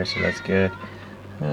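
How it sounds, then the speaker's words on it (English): A pet cat meows several times in short bursts, close and fairly loud, while someone speaks briefly between the calls. "that's my cat, sorry."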